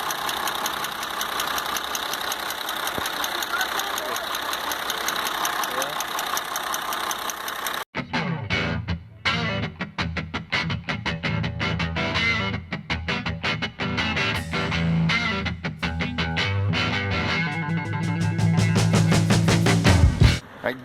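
An Iveco 480 truck's diesel engine runs loudly up close with a steady, rhythmic knocking inside its drone. The tone shifts partway through as the engine note changes.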